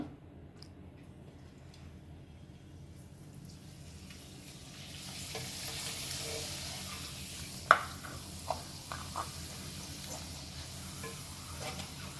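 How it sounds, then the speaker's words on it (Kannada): A thin sun-dried ragi papad made from a leftover ragi ball goes into hot oil, a faint fry hiss swelling midway with a few small crackles and pops, with no voices. "ಇದನ್ನು ಎಣ್ಣೆಗೆ ಹಾಕ್ತೀನಿ ನೋಡಿ. ಈಗ ಕಾದಿರೋ ಎಣ್ಣೆಗೆ ಹಾಕಬೇಕು."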